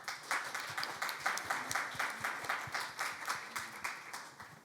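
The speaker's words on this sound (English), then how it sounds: "So please welcome him with a warm round of applause." Faint, distant audience applause welcoming a session chair at an international clean-air forum, with an even patter of many claps in a large hall, sustained at low level throughout.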